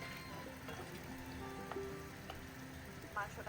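A red and green chili spice paste sizzles steadily in a pan with a soft, rain-like crackle, and a voice breaks in briefly near the end.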